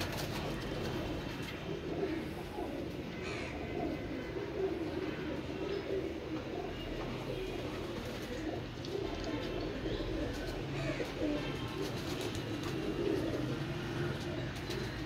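Pigeons cooing near at hand as they are released, with soft repeated coos and a few chirps over a steady outdoor background that runs the whole time.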